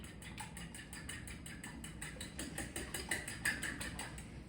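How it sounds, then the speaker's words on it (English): A fork beating eggs in a bowl makes a rapid, even clicking rhythm of tine strikes on the bowl, close and continuous for several seconds, with no voices. "we're going to give our eggs a whisk, and we're going to just use this fork"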